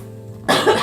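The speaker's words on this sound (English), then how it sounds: "I'm gonna cough." A single throat-clearing cough bursts out suddenly and up close after a moment of near silence.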